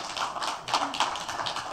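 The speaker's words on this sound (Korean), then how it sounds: "우리 박수 한번 치시면 좋겠어요." A church congregation applauding in a sanctuary, a steady patter of many hands clapping at moderate distance, fairly even and sustained without voices.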